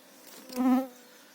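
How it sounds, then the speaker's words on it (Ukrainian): A mosquito whines close by in a forest during mushroom picking: a short, thin, high buzz that swells and fades within about a second over faint background hush. "Комарів тьма тмуща."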